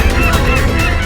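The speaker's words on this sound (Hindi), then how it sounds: "पक्षियों का समूचा झुंड आ रहा है।" A flock of geese-like birds honks and calls continuously, loud and close, dense overlapping cries filling the whole moment with no voices.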